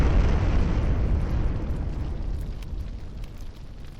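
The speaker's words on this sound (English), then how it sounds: "the shockwave picks up explosions, knocks you and Marcy on your backs" An explosion shockwave in the video game Friendsim 2 rumbles as a loud, sustained low roar that slowly fades over several seconds, with nothing else heard.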